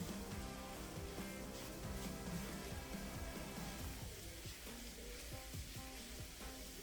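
A flour mixture sizzles and fries steadily in a pan for a shrimp dish, a faint, continuous hiss with soft crackles throughout.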